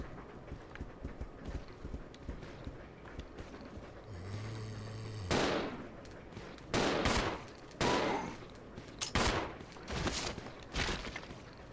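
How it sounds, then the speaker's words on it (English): Gunshots fired at a scorpion in the video game Resident Evil Zero: after a low droning hum, a series of loud, sharp blasts ring out in quick, uneven succession, with no talking. "Keep shooting it, Rebecca."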